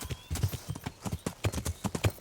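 Horse galloping in Kingdom Come: Deliverance, a steady clip-clop of hooves pounding in quick rhythmic beats at close range, loud and continuous with a faint whinny-like tone in the background.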